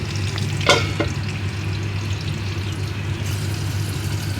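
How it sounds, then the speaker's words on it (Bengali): Eggplant slices fry in a covered pan with a steady, close sizzle and low hum throughout, a sharp clatter near the start as the lid or pan is handled, then continuous crackling with no talking. "এখন বেগুনটা দিয়ে ঢাকা দিয়ে দেবো, তাহলে তাড়াতাড়ি হয়ে যাবে"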